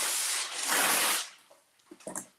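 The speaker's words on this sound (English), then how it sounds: "I think I'll just spray this over the sink" Cooking spray hisses over a kitchen sink onto parchment paper prepared for ground chicken, one steady burst lasting about a second, then a few soft rustles and taps nearby.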